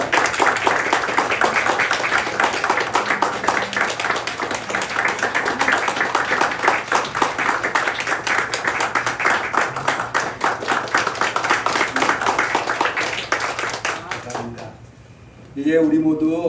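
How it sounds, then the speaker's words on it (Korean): A church congregation at a Sunday morning service claps together in sustained, dense applause for about fourteen seconds, loud and close, fading briefly before more sound returns at the end. "박수하시겠습니다."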